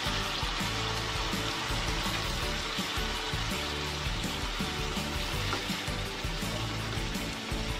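Egg-filled squid frying in a pan, a steady dense sizzle with bubbling and watery crackle running unbroken throughout, close and fairly loud, with no voices.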